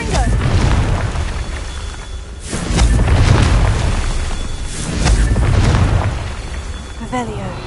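Fire-spell blasts in the Hogwarts Legacy video game, a series of heavy booming explosions swelling and fading in waves with crackling debris, loud and close, with a voice speaking in between.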